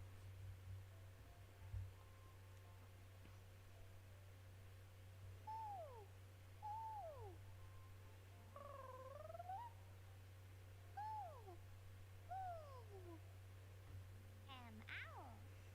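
Descending hoots sound in short sets of two or three, faint and a little distant, over a steady low hum, ending in a higher, wavering call.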